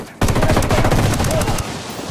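Rapid automatic gunfire in the tactical shooter Ghost Recon Wildlands, loud and close, a sustained burst of dense shots starting abruptly and continuing to the end, with faint voices in the mix.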